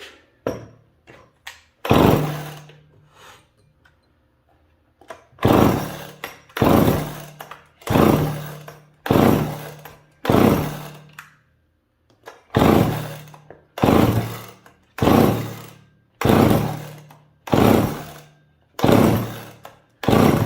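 A McCulloch chainsaw is pulled repeatedly as someone tries to start it, about a dozen loud, close, rhythmic ripping pulls with short low sputters as it almost fires, separated by brief pauses.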